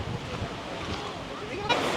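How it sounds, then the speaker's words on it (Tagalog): Strong wind on Boracay beach roars steadily across the microphone in a continuous rush, with faint surf underneath and no talk. "malakas ang hangin masyado"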